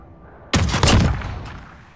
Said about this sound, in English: I definitely love this shotgun.